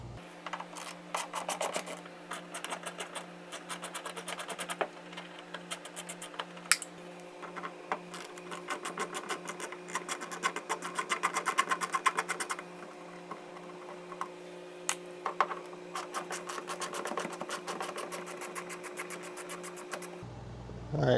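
Screws are taken out of the rear fender of a Chevrolet Silverado with a ratcheting tool, giving a close, rapid ticking and rasping that runs in long bursts with short pauses, with no talking.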